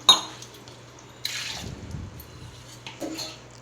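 Thin, watery rice flour batter for vathal stirred in a vessel, a few soft wet sloshing and clinking strokes close by, separated by quiet pauses.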